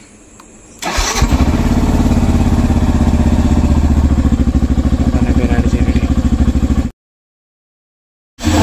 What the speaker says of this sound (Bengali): বাইক রেডি, বাইকে আবার স্টার্ট দিই।